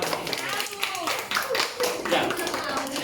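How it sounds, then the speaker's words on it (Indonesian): Schoolchildren clap at an elementary school tempeh-making activity, a burst of scattered applause mixed with voices talking over it. "Tepuk tangan buat Rek."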